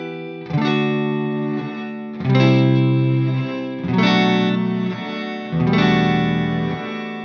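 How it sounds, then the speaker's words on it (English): A sustained instrument chord passes through a reverse reverb effect, four swelling notes each rising out of silence into a loud, held, shimmering tone before cutting off, evenly spaced and alone. "something like a reverse reverb like this"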